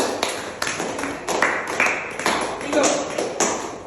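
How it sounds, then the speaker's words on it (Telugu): Children clap for a solved word puzzle in a classroom: a run of scattered, uneven claps and taps over several seconds, mixed with voices talking. "వెరీ గుడ్ క్లాప్స్ కొట్టండి ఒకసారి"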